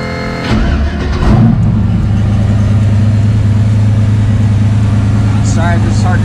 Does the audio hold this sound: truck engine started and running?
yes